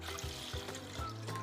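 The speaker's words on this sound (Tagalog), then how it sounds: "Maglalagay na ako ng tubig." Water pours into a cooking pot being readied for steaming sweet potato kakanin, a faint, continuous trickling stream with soft gurgles and no voices.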